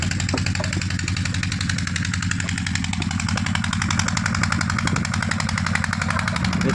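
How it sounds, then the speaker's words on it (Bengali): A soil-mixing machine runs at a brick kiln, a loud, continuous mechanical rattle with a fast, even pulse throughout, close by and with no voices over it. "এখানে একটা মেশিন চলছে যার মাধ্যমে মাটি মিক্সিং হয়ে এখানে লোকজন ইট কাটছেন।"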